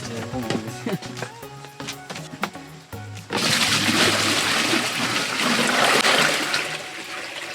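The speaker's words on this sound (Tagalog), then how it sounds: "So, lagyan na lang natin ng tubig sila." Water poured for goats from a container into a drinking spot beside a bamboo salt lick: some scattered knocks and taps, then a loud, steady splashing gush that keeps running for several seconds.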